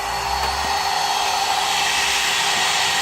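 CNC spindle motor spun up to 400 Hz gives a steady, even high-pitched whir that holds constant throughout, close and alone with no talking.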